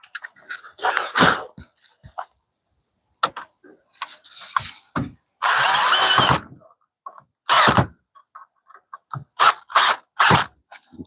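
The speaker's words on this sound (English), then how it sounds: "then we'll be able to drill and keep it going" A power drill drives screws into wood during a DIY mini truck camper build, with short loud whirring bursts and clattery ratcheting between pauses, close by and mostly alone.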